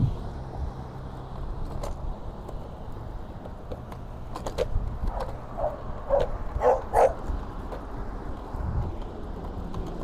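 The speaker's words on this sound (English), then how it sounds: "I am not used to all the barking dogs when I'm out and about, man." Dogs bark outdoors on a Los Angeles street in Silver Lake, a scattering of short, moderately distant yips and barks heard over steady traffic and street background noise.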